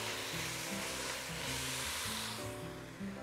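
Loud, continuous hissing sizzle of bell peppers sautéing in a hot pan, steady throughout with a brief dip near the end.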